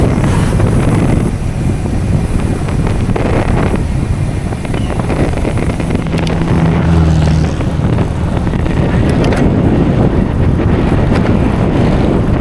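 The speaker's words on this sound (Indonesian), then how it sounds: "Ada pohon, anginnya kencang banget." Strong wind buffeting a microphone while cycling on a road, a loud continuous roar and rumble with gusts, with possible traffic passing and no speech.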